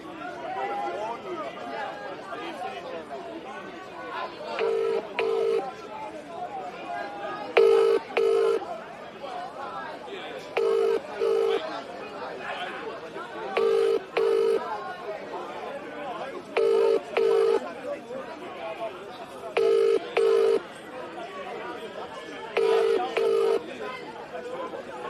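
Phone call being placed to Victor: short paired dialing and ringback tones repeat at regular intervals, about eight times, over a steady murmur of crowd chatter and voices in the background.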